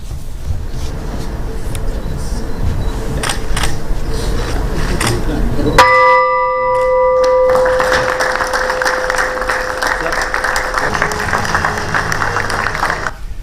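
A bell is struck once to open green bond issuance at the Colombo Exchange in Sri Lanka, a bright ringing tone that lingers and fades amid applause from a crowd.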